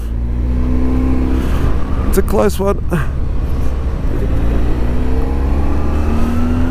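A BMW F700GS motorcycle engine revs hard near redline on an Alpine mountain road, a steady loud droning roar with rising harmonic whine throughout, while a voice talks briefly over it mid-clip.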